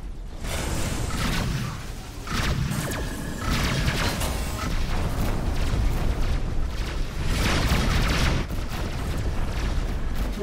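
Missile explosions and booming weapon impacts in the space combat game Rebel Galaxy, a run of heavy rumbling blasts and crashes at irregular intervals, loud and dense over a sustained low roar.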